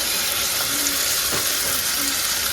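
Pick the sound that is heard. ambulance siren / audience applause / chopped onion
chopped onion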